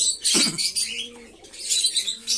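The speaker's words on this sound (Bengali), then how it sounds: "পায়রাগুলো এখন ছাড়বো" Pigeons being released in a burst of wing flapping, a loud flurry up close followed by softer fluttering and a few faint coos.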